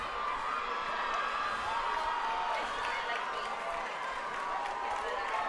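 A home crowd at a Del Rio Rams high school football game against the Leander Lions cheers, a continuous distant roar of voices and whoops at steady volume, with no clear breaks.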